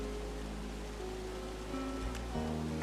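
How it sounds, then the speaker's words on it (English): A waterfall in the video game Firewatch rushes as a steady broadband wash, with low tonal music or ambience under it and a few shifts in pitch near the end. "It's a really nice waterfall down here."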